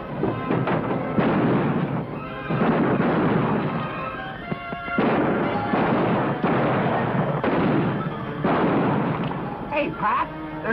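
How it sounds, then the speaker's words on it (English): Gunshots ring out down a street in an old western, with several loud cracks and booms echoing amid crowd noise and talk, partly masked by a muffled, dense mix. "Somebody's always shooting at us."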